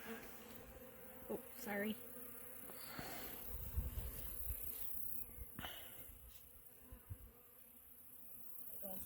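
Bees swarm around an open beehive as its lid goes back on, filling the air with a close, continuous buzz while a person briefly speaks over it.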